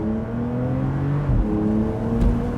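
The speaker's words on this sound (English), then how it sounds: "you whack on that sports exhaust, put it into manual, drop it down a couple of pegs." Porsche 911 GTS Cabriolet engine with sports exhaust in manual mode, droning steadily then dropping in pitch as it is shifted down, with a brief blip and a second pitch change near the end, loud and close.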